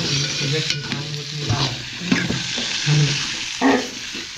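Ground spice paste frying in hot oil while being stirred: a continuous close sizzle broken by scraping stir strokes and soft knocks in an irregular rhythm.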